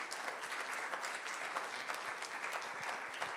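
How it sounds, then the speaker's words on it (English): An audience applauds the panelists at a conference on water conservation innovation, a steady patter of clapping hands from a crowd, fairly faint and distant, lasting the whole moment without a break. "Round of applause for the panelists."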